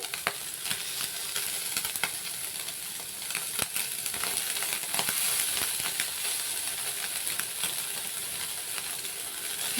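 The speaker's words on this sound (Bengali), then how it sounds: "মাছ ভাজা হচ্ছে" Small mola fish frying in a little oil over a gas flame turned to high, giving a steady close crackling sizzle with scattered sharp pops throughout.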